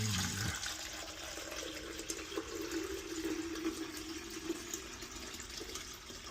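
Water poured into a pool pump housing while opening a pool, a quiet, steady splashing and trickling stream that runs continuously without pause, close by.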